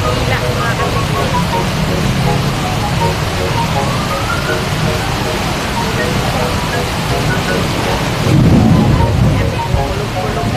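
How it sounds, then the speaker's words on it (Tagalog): Heavy rainstorm during flooding, with a dense steady roar of loud rain and a low rumble of thunder rising near the end, voices faintly mixed in under the downpour. "Kulog-kulog na po."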